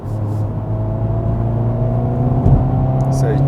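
A 2021 Hyundai Veloster N with a 2-liter turbo engine and 8-speed dual-clutch gearbox hums steadily and climbs in pitch while accelerating on a night drive, heard from inside the cabin.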